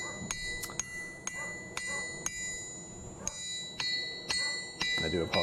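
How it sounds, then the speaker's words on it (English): Sharp metallic pings ring out in a steady rhythm, a hammer striking a 110 lb single-horn cast steel anvil about every half second, each hit leaving a bright lingering tone. "you should be able to hear the pinging over them barking"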